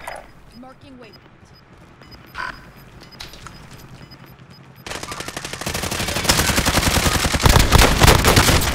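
Automatic gunfire in the video game Warzone: a quiet stretch with faint voices and scattered shots gives way to loud, sustained, rapid-fire bursts that keep building to the end.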